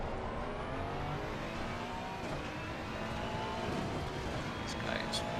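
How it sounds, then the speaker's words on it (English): Race cars in Assetto Corsa Competizione at Monza, a steady engine drone with a faster car closing in from behind and building slightly toward the end, under a constant wash of road and wind noise. "Faster car is approaching."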